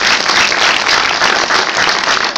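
Crowd at a magic show clapping hard for a volunteer, a loud, continuous, even roar of applause filling the whole moment without letup.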